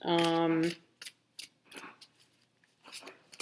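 A tarot card deck is shuffled overhand, giving a string of brief papery riffles and card slaps in an irregular rhythm, close and fairly faint, after a short voiced sound at the start.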